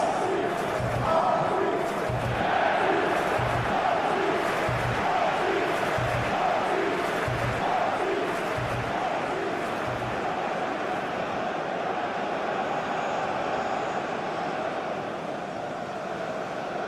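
Stadium crowd in the football video game PES 21 at a World Cup round of 16 match: a steady, dense roar of fans with rhythmic chanting and regular thumping beats in the first ten seconds, continuing as a loud, even wash of noise.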